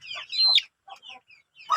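Native chicken clucking close by, a few short bursts of clucks and chirpy calls separated by brief pauses, alone without talk.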